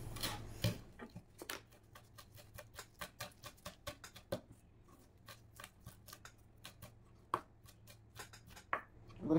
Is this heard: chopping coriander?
yes